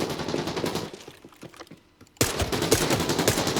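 Gunfire in Arena Breakout: Infinite: dense rapid bursts of automatic fire, a short quieter lull, then a sudden loud resumption of sustained shooting.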